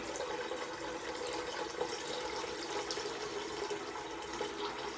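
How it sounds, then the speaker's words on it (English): Tap water runs steadily into a sink as a continuous close splashing rush, with no talk over it. "I forgot to fill up the sink, so sorry about the running water."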